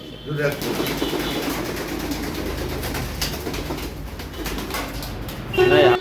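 Lotan pigeons released in pairs, with soft cooing and bursts of wing flapping close by under steady voices talking, plus a louder flutter near the end.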